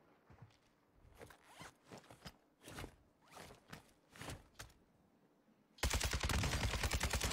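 Gunfire in a video game: a series of spaced, sharp shots, then a dense burst of rapid automatic fire at the end, loud and close, with no talking.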